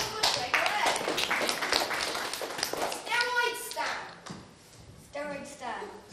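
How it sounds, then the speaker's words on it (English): Audience clapping at a St Andrew's School Year 6 leavers' show, The Dracula Rock Show, scattered hand claps mixed with children's voices and chatter, rising and fading in uneven bursts. "A round of applause for Shake a leg!"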